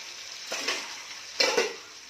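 Spices tempering in hot oil for khichdi, a close, steady sizzle that flares twice into louder hissing bursts as ingredients are stirred in, with no voices.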